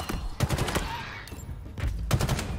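Gunfire in the Halo Infinite campaign on Legendary, set in the Command Spire assault: two quick bursts of several sharp shots each, loud and close, separated by a quieter stretch of ambient game noise.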